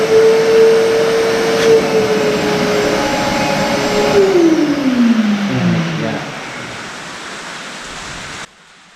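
A shop vacuum draws antifreeze from a race car's radiator with a steady loud roar, its pitch sliding lower midway as the suction load changes, then cutting off abruptly near the end.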